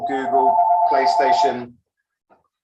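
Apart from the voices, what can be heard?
mobile phone ringing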